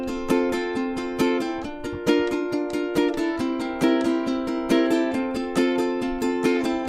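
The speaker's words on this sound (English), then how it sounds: "we can also add up strums in between every single down strum that we just did" Ukulele strummed steadily in even down and up strokes, a brisk continuous rhythm of bright chords played close and alone.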